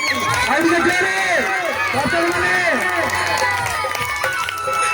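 A crowd at a youth club stage performance cheers and shouts together, a dense wash of excited voices close by with overlapping calls throughout.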